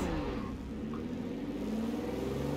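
Plymouth Fury car launching off the line in Forza Horizon 4, a steady engine drone with rising revs, close and continuous throughout.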